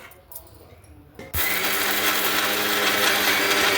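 A mixer grinder starts abruptly and runs loud and steady, whirring as it grinds chana dal, dried red chillies, onions, salt and coconut, after a short stretch of quieter handling sounds.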